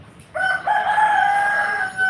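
A rooster crows once, loud and close, in a long sustained call with no talking.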